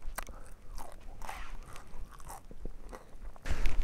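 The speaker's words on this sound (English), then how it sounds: "you can eat them, just crunch them up, and they taste almost like chips" Cooked, chalky bones are bitten and chewed up close outdoors in the Idaho wilderness, giving a series of crisp crunches and grinding chews in irregular bursts, fairly quiet, with a louder crunch at the end.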